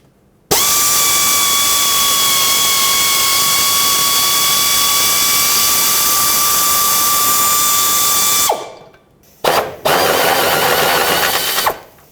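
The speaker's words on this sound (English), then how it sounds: "I'll sneak my air ratchet in here." An air ratchet loosening a 13mm sway bar bolt on a 2007-2009 Saturn Aura, a loud sustained high-pitched whine for about eight seconds, then a brief pause and a second shorter burst.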